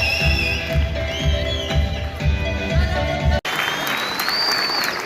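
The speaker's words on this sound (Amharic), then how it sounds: "ጸሐፊ ተውኔትና ባለቅኔ ጋሻ እያልነው ሙላትን እባካችሁ ሞቅ ባለ ጭብጨባ ወደ ቦታው ሸኙልን" Applause from an audience at a film premiere ceremony: a dense, steady clatter of many hands that runs throughout, broken by a brief cut near the end before continuing.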